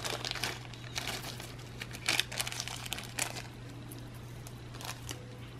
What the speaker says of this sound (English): Just rip that right off like that.